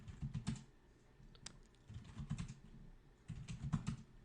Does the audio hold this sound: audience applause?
no